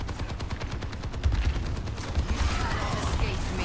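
Rapid bursts of automatic turret fire crackle in a video game, a dense, steady volley running throughout while players talk over it.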